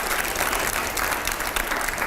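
Applause sound effect played in a Hindi TV news studio debate, a dense, steady wash of clapping at full loudness for about two seconds, with no voices over it.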